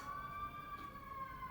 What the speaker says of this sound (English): Sorry in advance for the sirens